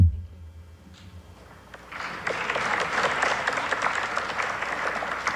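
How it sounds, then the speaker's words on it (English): After a quiet opening with faint rumble, an audience at a high school scholarship awards evening breaks into steady, full applause that carries on to the end. "Thank you for that applause"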